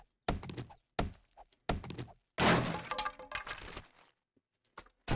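Loot containers popped open one after another in 7 Days to Die, a series of close, hollow thunks and cracks in short bursts, one longer clattering rummage in the middle, then quiet gaps.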